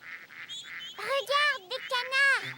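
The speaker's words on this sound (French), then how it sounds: "Regarde, des canards." Ducks gathered on the ground as a family picnic in the animated children's show Caillou give several loud, close honking quacks in quick bursts, with a quieter call in between.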